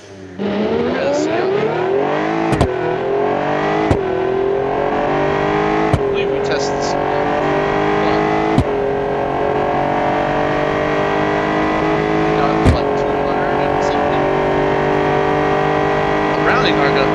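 Hybrid cars racing at high speed in BeamNG.drive, a steady loud engine drone rising in pitch as they accelerate, with a few sharp clicks or gear-shift ticks along the way and no talk.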